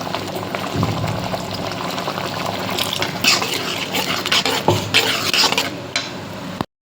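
A pot of ginger kuzhambu bubbles and sloshes at a lively boil, with a steady, fairly loud liquid churn and sharper splashy pops throughout, cutting off abruptly at the end.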